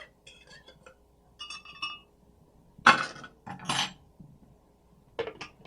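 A spoon scrapes food out of a dish in short bursts of clinking and scraping metal against crockery, close by and separated by quiet pauses, with no one speaking.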